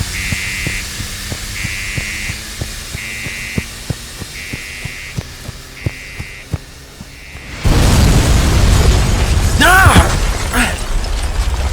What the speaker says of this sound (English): I saw an explosion from across the street.